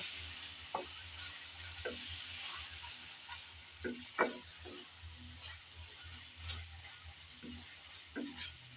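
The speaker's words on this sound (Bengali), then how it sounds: "আমি আবার একটু নেড়ে চেড়ে দিচ্ছি" Shrimp dopiaza cooking in a pan with onions, stirred now and then; a low steady sizzle runs throughout, broken by soft intermittent scraping and clinking of the spoon against the pan, with no talking.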